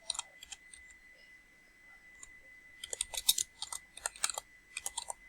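A computer keyboard clicks close by, first in a few scattered keystrokes and then in quick irregular bursts of typing, with no voices.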